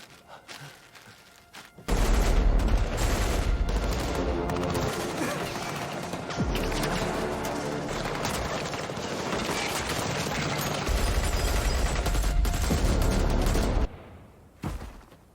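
Sustained gunfire in a North Korean escape film: a dense barrage of shots and bursts starts abruptly, runs loud and continuous for about twelve seconds, then cuts off, leaving a quieter tail.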